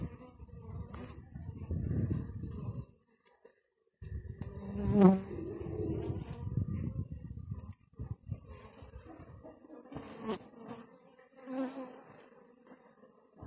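Honey bees buzz around open beehive frames of brood during a cold-weather colony expansion, a dense, fluctuating hum close by with brief quieter gaps and no talking.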